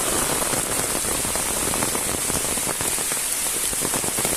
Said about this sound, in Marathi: जाम जोरात पाऊस आलाय.